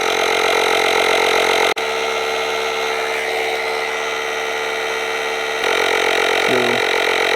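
An Etenwolf S1 portable tire pump runs with a loud, continuous motor whine and buzz; its tone shifts abruptly early on and again near the end, with a brief low-pitched blip, and no talking.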